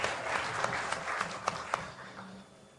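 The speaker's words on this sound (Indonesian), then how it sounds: "tepuk tangan untuk PWI Malang Raya" An audience at a public dialogue for Malang mayoral candidates applauds for PWI Malang Raya, a moderate spread of claps with a few sharp near hand-claps, fading out over the last second.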